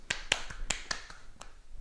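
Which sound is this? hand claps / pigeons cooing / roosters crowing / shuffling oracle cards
hand claps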